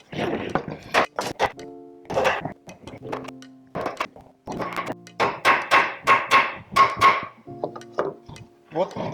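A wooden dowel is hammered into a solid wood cutting board with a series of sharp, close knocks, some in quick clusters and others spaced apart, with no talking.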